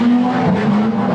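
A wingless sprint car, number 84, roars loudly and close down the front straight at a race, its engine holding a steady high-revving note with a faint tire squeal.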